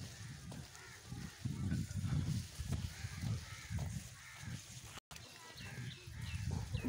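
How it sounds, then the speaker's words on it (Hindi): Village ducks call in a loose, overlapping chorus of nasal honks as they come running, fairly close and continuous, with a person's voice mixed in. "आज वेखो बतखा भज्जा आउंदिया"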